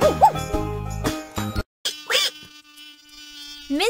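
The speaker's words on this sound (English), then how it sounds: "Chase the mosquitoes away from her." High whining buzz of cartoon mosquitoes in a children's animal-care farm game, swelling and dropping in short bursts among bright chimes and effects.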